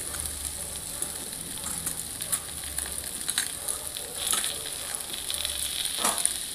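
Spinach and taro sizzle steadily in a frying pan, a constant crackling hiss with occasional louder pops and faint stirring, close and alone without talk.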